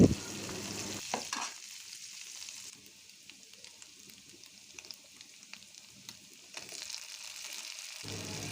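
Dried puti fish fry in hot oil with a bright sizzle and scraping stirs. The sizzle is loud at first, drops to a softer crackle, then swells again before cutting off.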